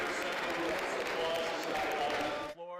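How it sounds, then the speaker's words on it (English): Applause in the Wisconsin State Assembly chamber from legislators on both sides of the aisle, a sustained even patter of many hands that stops abruptly near the end, heard at a moderate distance. "A bill for transparency receiving applause from both sides of the aisle."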